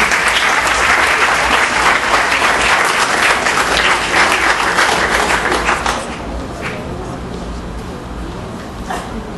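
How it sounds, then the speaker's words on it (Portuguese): A hall audience claps loudly for a speaker being called to the panel at a youth parliament event in Visconde do Rio Branco, Minas Gerais. The applause is dense and steady, then thins into softer scattered clapping near the end. "Uma salva de palmas"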